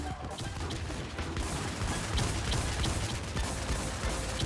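Dense, continuous gunfire from the video game Warz crackles throughout, a busy, overlapping volley of shots at moderate loudness with no clear pauses.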